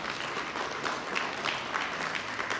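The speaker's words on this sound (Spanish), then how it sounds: "Denle un aplauso a los hermanos" A church congregation applauds two brothers, producing a fairly quiet but dense wash of clapping that stays even throughout, heard from a slight distance.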